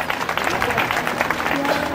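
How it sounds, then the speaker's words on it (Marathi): Applause from an audience at a women's economic development gathering, dense steady clapping filling the whole moment with voices of the crowd mixed in. "पुन्हा 4 टाळ्या वाजवा एकदा"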